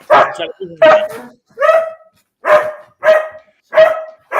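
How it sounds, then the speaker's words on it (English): Loud, close dog barks repeat at a steady pace, about seven sharp woofs separated by short silences. "I'm afraid Jed is out barking you, Keith."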